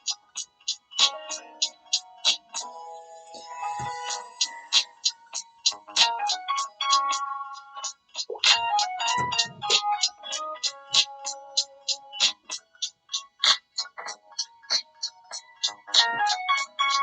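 A Samsung Galaxy A14 5G phone and Galaxy Tab S6 Lite tablet play their ringtone, a quick repeating series of bright chiming notes in a steady pattern, clear and close, with brief bits of talk behind.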